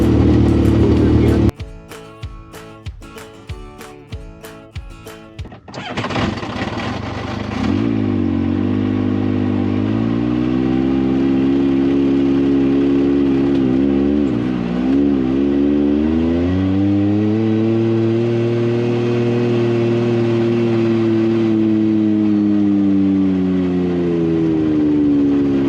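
An off-road vehicle engine crawls in low range first gear over snowy, wet terrain, rising from a clattering idle to a loud, steady drone with slow pitch swells as it pulls through.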